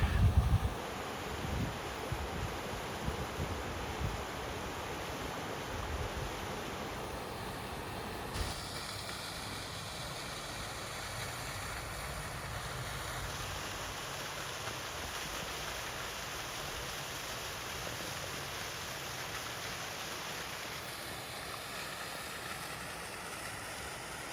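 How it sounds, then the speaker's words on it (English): Two waterfalls side by side along a wilderness trail, a steady distant rushing wash of falling water that stays even and moderately faint throughout, with no voices. "Cool little side-by-side waterfall there."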